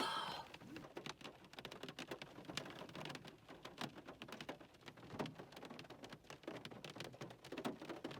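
Pouring rain falls steadily through a forest, a dense hiss of drops spattering on leaves and ground with scattered sharper hits, continuous and moderately quiet throughout with no voices.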